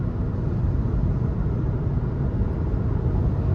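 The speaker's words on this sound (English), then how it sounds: "Hearing a little bit of wind noise" Steady broadband wind and road rumble inside a 2023 Nissan Versa SV with a 1.6-liter engine while driving, a constant low roar of moderate loudness with no voices.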